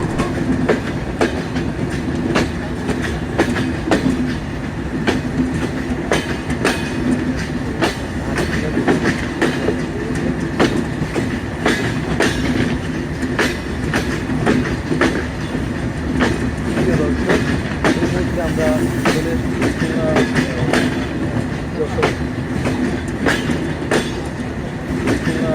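Rupsha Express train rolling into Noapara railway station, a steady loud rumble of wheels and carriages with rhythmic clacking over rail joints, continuous throughout with faint voices in the background.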